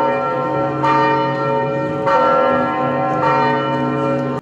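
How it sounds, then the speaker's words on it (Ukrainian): Church bells of a Protestant church in Berehove ring out for a Sunday service, rich sustained tones struck again about every second and a half, loud and close with long overlapping resonance. "Дзвони скликали на урочисте богослужіння вірників протестантських церков у Берегові"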